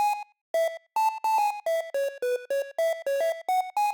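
An 8-bit style synthesizer lead plays a bright, buzzy square-toned melody of about a dozen short, separate notes in a steady bouncing rhythm, clear and alone.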